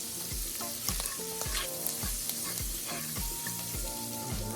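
Butter melts and sizzles in a frying pan before eggs go in, a steady close hiss of frying with repeated rhythmic scraping and stirring sounds throughout, no voices.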